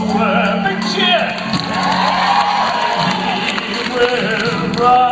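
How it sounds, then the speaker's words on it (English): Theatre audience cheering and whooping at a concert in the Palace of Fine Arts Theater, San Francisco: loud, steady crowd roar with scattered shouts, sustained throughout over a low instrumental hum. "Big cheer!"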